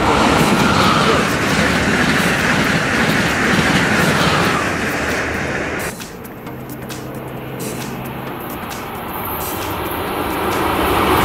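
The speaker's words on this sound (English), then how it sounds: "An electric locomotive is a type of combined electric railway vehicle used to transport passengers and goods." An electric locomotive rumbles past at close range with a loud broadband roar, then the noise thins after about six seconds into a lighter rolling clatter and hiss as the cars keep going by.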